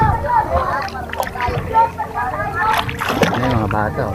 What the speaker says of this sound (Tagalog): lalangoy lang siya gamit ang salbabida